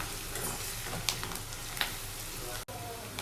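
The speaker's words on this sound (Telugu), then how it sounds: "ఆనియన్ కర్రీ లీవ్స్ అన్నీ కూడా పచ్చివాసన పోయేంత వరకు ఫ్రై చేసుకోవాలి." Onions and curry leaves fry in hot oil for mutton curry, giving a steady close sizzle with a few light clinks of stirring over about three seconds.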